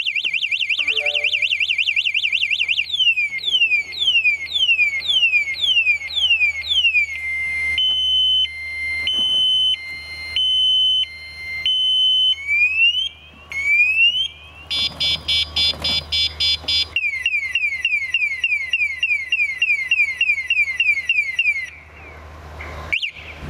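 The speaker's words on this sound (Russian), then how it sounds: "есть встроенная и очень громкая звуковая сигнализация" Loud built-in alarm of a 72V three-wheeled CityCoco electric scooter cycling through several siren patterns: rapid warbling chirps, steady beeping tones and rising sweeps, repeating continuously for over twenty seconds, nearby and piercing.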